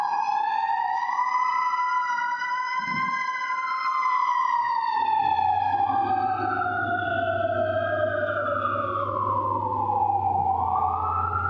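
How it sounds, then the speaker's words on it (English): Emergency vehicle sirens wailing through the night, rising and falling in long sweeping cycles, with a second siren joining partway through and a low engine rumble under them. No one speaks. "Everywhere I trap, there's sirens."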